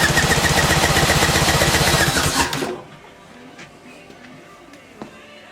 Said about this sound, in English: This is a compression check on the bottom cylinder.